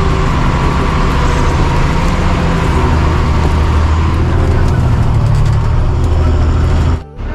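A long 14-wheel truck rumbles along a badly broken off-road stretch near Guwahati at night, its deep, steady engine drone loud and close for several seconds before cutting off abruptly at the end.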